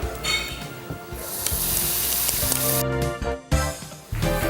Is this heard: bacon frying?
yes